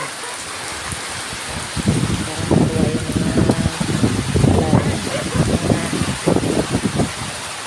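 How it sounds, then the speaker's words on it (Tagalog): Steady rain and strong gusting wind roar throughout in Bohol, Philippines, with a person speaking over it in bursts. "Ayan nga guys, sobrang lakas ng hangin."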